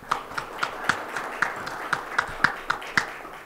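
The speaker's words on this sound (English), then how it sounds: "Can I ask you to give yourself a very big round of applause" Applause at an international awards ceremony for CEOs, heard as a run of distinct, evenly spaced claps close by rather than a dense ovation, lasting a few seconds.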